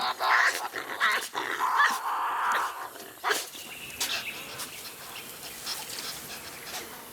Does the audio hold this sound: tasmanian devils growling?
yes